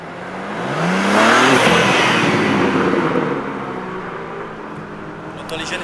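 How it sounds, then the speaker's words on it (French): Flat-six sports car engines revving at the Nürburgring swell into a loud, broad roar that builds over a second and then sustains and slowly fades, with faint voices in the background. "On entend les jeunes flat 6 à droite."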